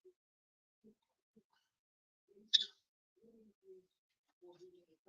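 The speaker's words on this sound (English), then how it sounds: "my live streams are going to be without the bird videos playing" Bird song from bird videos playing indoors during a sewing session, faint scattered coos and chirps with one sharp brief chirp, otherwise near silence.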